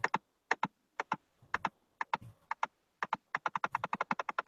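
Computer keyboard keys pressed in quick separate clicks, sparse at first and then a fast run of taps near the end, close and clear with almost no talk.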